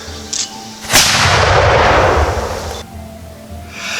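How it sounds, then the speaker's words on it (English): A cannon fires once at an outdoor pirate-themed live-action role-play event: a sudden loud boom that rumbles and decays over about two seconds before fading to quiet background. "And how about that cannon?"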